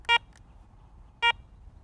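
An ACE 200i metal detector gives two short, bright electronic beeps about a second apart as its power button is pressed, clear and close against near silence.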